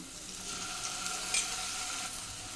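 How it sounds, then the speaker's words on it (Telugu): Onions browning in a pan sizzle steadily as ginger garlic paste is added, a soft continuous frying hiss with light stirring, no voices. "ఆనియన్స్ కొంచెం బ్రౌనిష్ కలర్లో వస్తున్నాయి కదండి ఇప్పుడు అల్లం వెల్లుల్లి పేస్ట్ వేస్తాను"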